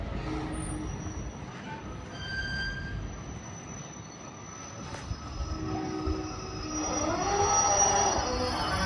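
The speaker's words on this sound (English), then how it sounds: "as the service from London Gateway approaches" A freight train from London Gateway passes through Nuneaton station on the West Coast Main Line, its wheels squealing in sustained high, shrill tones that swell louder toward the end over a steady rumble of wagons.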